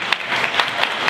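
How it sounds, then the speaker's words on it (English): Audience applause for a panelist at an engineering conference, a short burst of steady clapping filling the room with a few sharper individual claps standing out. "It was a good round of applause for Katherine,"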